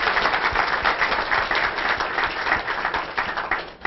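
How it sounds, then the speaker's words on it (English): An audience gives sustained applause after a talk, dense overlapping clapping from many hands that holds steady throughout and fades only slightly at the close. "Let's give her a round of applause."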